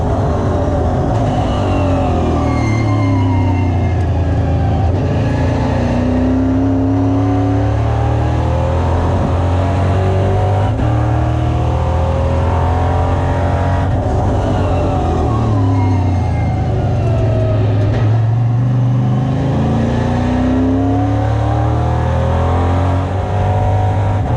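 A EuroNASCAR race car engine revs hard and shifts through gears throughout, a loud, continuous near roar with rising and falling pitch sweeps as the car accelerates out of corners on the track.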